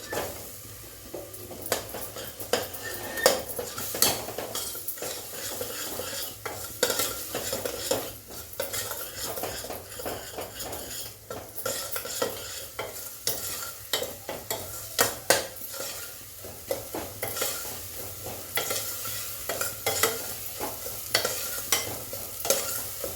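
A spoon stirs homemade garam masala and turmeric as they sauté in a pan for chavali bhaji, giving repeated scraping and clinking strokes over a steady low sizzle, close and continuous with no talking.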